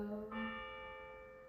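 Bell tones ring out and sustain, fading slowly, with a faint earlier tone beneath; no talking.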